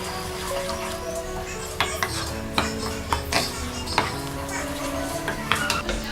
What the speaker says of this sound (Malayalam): ഇനി നന്നായിട്ടൊന്ന് മിക്സ് ചെയ്ത് കൊടുക്കാം.